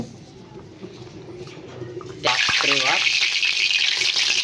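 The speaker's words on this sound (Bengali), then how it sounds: "এবার আমরা কড়াইয়ে জিরা দিয়ে দেব" Quiet room tone, then a sudden loud burst of hissing, crackling sizzle as cumin seeds hit hot oil in a wok, continuing steadily to the end.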